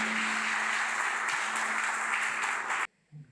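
A church congregation applauds the Lord, a dense, steady wash of clapping that carries on evenly for nearly three seconds and then stops abruptly, leaving near silence.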